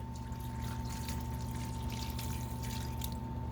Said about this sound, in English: we're going to pour in a little bit of that pasta water